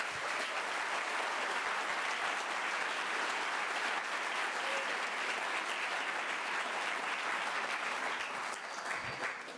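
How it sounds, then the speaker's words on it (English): Concert audience at a fall school concert applauds a high school wind ensemble, a dense steady wash of clapping that stays loud throughout and fades slightly at the end. "I would like to give the Wind Ensemble and Miss Ellinger a huge round of applause."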